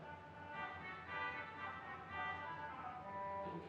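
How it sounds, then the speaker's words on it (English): Saxophone reed stop on a Wurlitzer theatre organ sounds as a faint, buzzy sustained chord with a reedy, breathy edge, held steadily and heard alone at a distance. "a saxophone, which is sort of native to the Wurlitzer organ in this guise."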